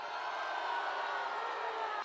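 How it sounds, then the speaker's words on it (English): Raucous political rally crowd, a dense continuous roar of voices with scattered whoops filling the whole moment, loud and sustained without a break. "the raucous crowd clearly not liking their options"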